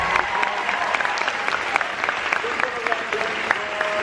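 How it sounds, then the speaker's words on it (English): An audience at a book signing applauds warmly, dense continuous clapping with scattered louder claps, close and full, lasting throughout. "Let's give another round of applause."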